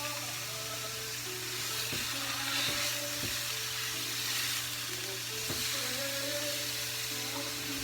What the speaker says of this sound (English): I'm basically just adjusting that based on how loud the sizzling is